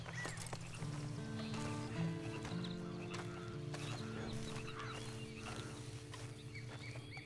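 Horse hooves clip-clop softly in a video game, the faint rhythmic steps mixed with low ambient game sound and music throughout.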